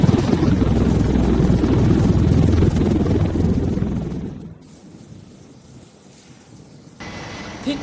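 V-22 Osprey tiltrotor military aircraft flying, a loud dense rotor and engine roar that holds steady, then drops away sharply and stays low before swelling back up near the end; no talk.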